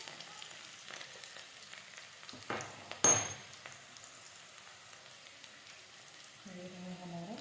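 Garlic drops into hot oil in a pan while a Chhattisgarh karmota bhaji dish is cooked, giving a quiet, steady sizzle and crackle with a brief louder burst partway through and faint clinks.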